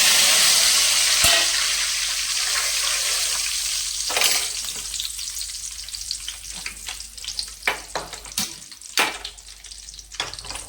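Dried red chilli pieces and curry leaves fry in hot oil in a kadai for a tempering: a loud, bright sizzle at first that eases off, then broken by scattered clinks and scrapes of stirring.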